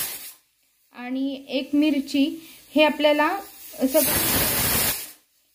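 A kitchen pressure cooker lets out a burst of hissing steam lasting about a second near the end, after someone speaks over quiet room background.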